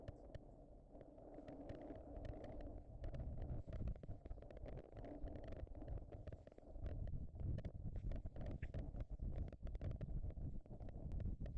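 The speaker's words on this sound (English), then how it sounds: "That's a good little wind coming now." Storm wind during a Florida tornado-warning storm near Pinellas Park, a steady rushing roar with gusty buffeting against the microphone that swells and holds through most of the stretch.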